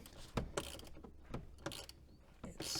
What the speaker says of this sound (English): now I will use the ratchet because it will be easier